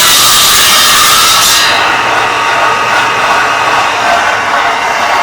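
Power saw cutting wood in a carpentry joinery cut, a loud, steady broadband whine running continuously, its tone shifting slightly as the blade pushes through the workpiece.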